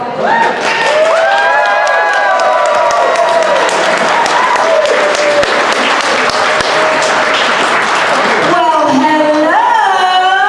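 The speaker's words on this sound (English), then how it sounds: "Alright, you can applaud." Convention crowd applauding and cheering at a Crypticon celebrity event, loud and sustained dense clapping with whoops, over music, for about ten seconds.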